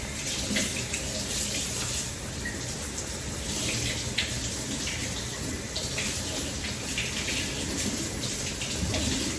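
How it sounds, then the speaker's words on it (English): Tap water runs steadily into a kitchen sink as fresh parsley is rinsed under it, a constant broadband splash and gush lasting throughout with no speech. "I'm gonna go to the sink and I'm gonna rinse it"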